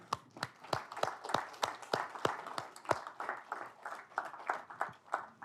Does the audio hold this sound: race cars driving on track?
no